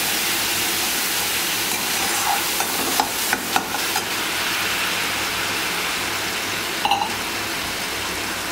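Spice mixture frying in hot oil and being stirred for a potol doi posto curry, a steady close sizzle throughout with a few brief scraping clinks of the spoon against the pan.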